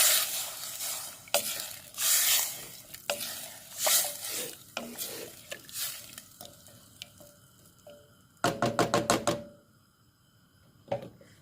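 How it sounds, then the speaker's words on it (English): Stock and tomatoes added to a spicy potato and chickpea curry pot, with bursts of sizzling and stirring scrapes in uneven waves, then a loud clattering rattle of the pot near the end. "So I'm going to add in my stock and my tomatoes."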